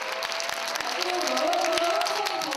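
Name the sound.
audience applauding, calling for an encore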